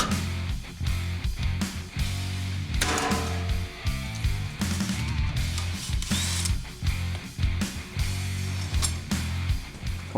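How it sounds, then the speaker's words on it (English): A Matco two-speed power drill drives a self-tapping screw during work on a Ford Ranger prerunner, whirring loudly in bursts that change speed, with brief pauses and clanks in between. "Using our 2-speed drill from Matco, I'm using the high speed to help the self-tapping screw cut and the low speed to drive it home."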